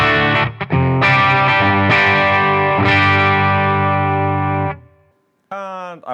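Overdriven electric guitar chords through a Boss Katana amp's blues drive ring out with a warm, gritty distortion, several strums sustaining before fading, then a short bent note at the end.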